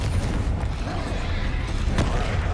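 A Confringo fire spell goes off in Hogwarts Legacy, a dense rumbling blast with a crackling burst midway, loud and close, with a voice over it.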